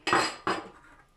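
A lid is set onto a metal stand-mixer bowl while making kougelhopf dough, giving two quick metallic clanks close together that ring briefly and fade.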